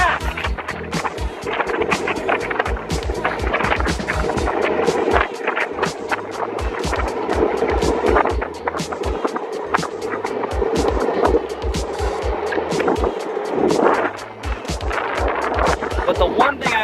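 A WOWGO electric skateboard cruises along at speed, giving a steady rolling and wind-buffeted roar with a continuous motor whine, and frequent rough bumps and thumps from the wheels.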